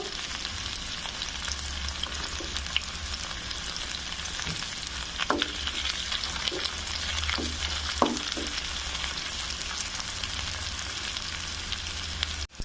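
Three green chilies and chopped garlic frying in hot oil, a continuous close sizzle with a low cooking rumble beneath and a few sharp spatula clinks scattered through the middle, no talking.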